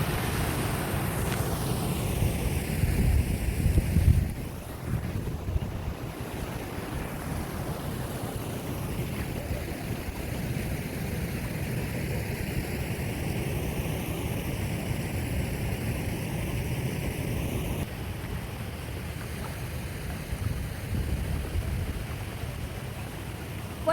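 Water streams continuously over slippery, moss-covered ground outdoors, a steady, even rush mixed with wind buffeting the microphone, with no talking.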